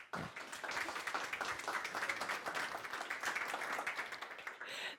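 Lecture audience applauding to welcome a returning speaker, sustained clapping from a roomful of people that rises quickly and stays steady for about five seconds.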